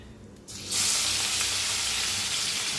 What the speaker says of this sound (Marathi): मोहरी चांगली तडतडा लागल्या